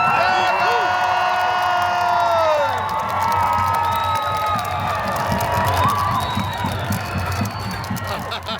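A large May Day union rally crowd in New York City cheers loudly, with overlapping shouts and whoops, close and continuous throughout, easing slightly toward the end.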